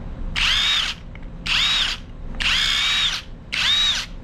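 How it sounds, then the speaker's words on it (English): SeeSii 1/2 inch cordless impact driver fitted with a drill bit runs in four close, loud bursts of whining motor, each under a second, separated by short pauses, with no speech. "you can use your impact as a drill"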